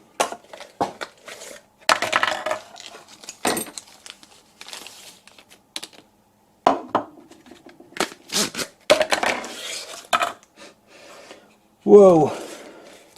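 Plastic bags crinkle and rustle in irregular bursts as lathe tools and inserts are unpacked, with sharp crackles, brief pauses and a close, clear sound, plus a short vocal exclamation near the end.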